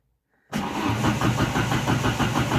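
An Opel Calibra engine, converted to rear-wheel drive, fires on its first start attempt after a brief crank, then settles into a loud, steady running rumble close by.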